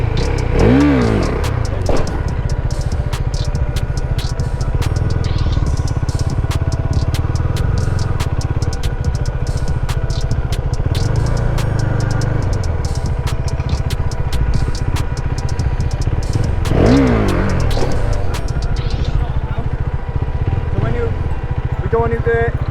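A motorcycle engine runs steadily during wheelie practice, holding a loud, near drone with two distinct rev rises, while a man coaches over it.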